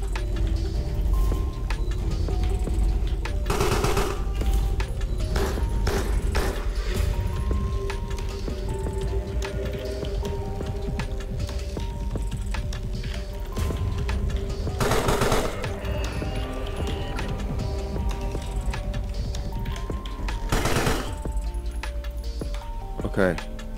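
Rapid gunfire in the video game Carrion rattles steadily, with dense bursts and sharp louder volleys over a constant game soundscape. A player talks over it at times.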